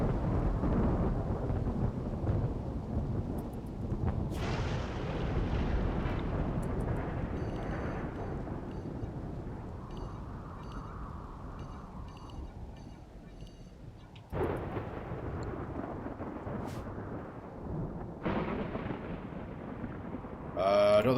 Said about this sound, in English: Nope, just a flash storm event. Freak localized lightning.